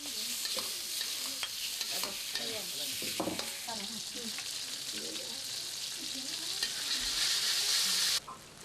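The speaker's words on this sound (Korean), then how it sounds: "튀기고 볶고 여느 가정집 부엌 풍경과 크게 다르지 않은데" Food frying and being stir-fried in a home kitchen in Indonesia, with a steady loud sizzle throughout, scattered clinks and scrapes of utensils against the pan, and a faint voice in the background.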